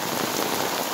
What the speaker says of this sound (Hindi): 28 जून 2023 सुबह सुबह बरसात हुई, बहुत अच्छा नज़ारा आया